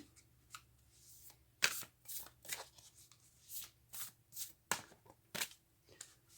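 A deck of tarot cards is shuffled by hand in quiet, brief riffles and flicks with short pauses between them, close up and soft.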